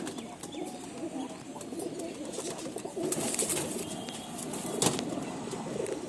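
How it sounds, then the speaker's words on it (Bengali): A breeder's whole flock of pigeons coos together in a continuous low burbling chorus, with occasional wing flaps and light knocks rising above the steady calls. "সব পায়রাগুলো দেখুন"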